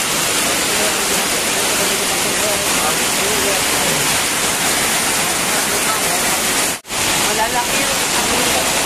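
Heavy rain pours down in the countryside, flooding the front of a house into a rushing stream; a dense, loud, steady roar of downpour continues throughout with a brief dropout near the end.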